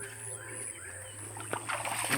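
Water sloshes and splashes at the blue well (telaga biru) in Lenggong, Perak, close by over a steady background hum, with a brief louder splash near the end.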